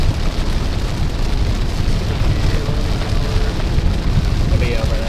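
Heavy rain drums steadily on a storm-chasing vehicle during a severe thunderstorm in Iowa or Illinois, a dense continuous wash of noise close up with no break through the whole stretch.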